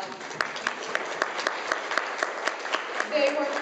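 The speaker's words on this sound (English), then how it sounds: "If you would all please give them all a huge round of applause." Crowd applause with scattered sharp claps, steady and moderately loud throughout, a few individual claps standing out from the wash.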